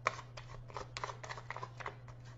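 A deck of tarot cards is shuffled close by, making quick, light papery riffles and flicks in a rapid, uneven patter over a low steady hum, with no talking.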